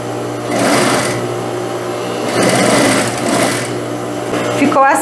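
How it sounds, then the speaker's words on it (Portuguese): Close, continuous whir of a sewing machine topstitching along bias binding on a gathered-sleeve blouse, speeding up and slowing in two bursts, with a soft clatter near the end. "E o pesponto rente eu passo em cima do viés."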